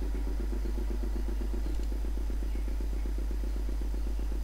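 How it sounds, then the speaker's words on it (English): An engine in the Broken Sword video game chugs steadily, a low rhythmic puttering motor running evenly and fairly close throughout. "The motor spluttered into life."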